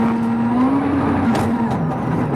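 A 2002 Swedish Rally car driven by Richard Burns runs flat out on a World Rally Championship stage, with a steady, loud engine drone and shifting pitch as it accelerates. No voices can be heard.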